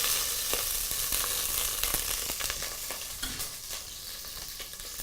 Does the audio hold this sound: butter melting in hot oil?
yes